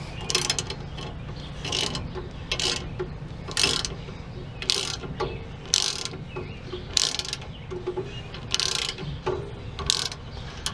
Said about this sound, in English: You can hear it driving that rotor out.